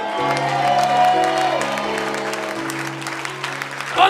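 Church congregation claps and cheers loudly, a sustained wave of applause beneath a held musical tone, with a voice rising over it near the end.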